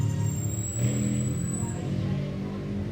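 A steady engine drone hums in the background, continuous and fairly loud, with a slight rise in pitch like a passing motorcycle.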